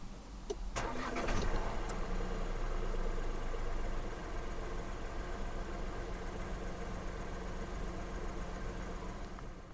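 A 2023 Proton X70 1.5 TGDi 2WD starts by push button: a brief starter crank catches into a surge of revs, then settles into a steady, quieter idle, heard from inside the car without talk.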